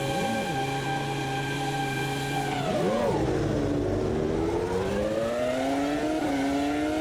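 Renault R25 V10 Formula 1 cars in Automobilista 2 rev loudly on the grid at Catalunya, Barcelona, giving a continuous high, dense engine drone with the pitch rising and falling through several sweeps.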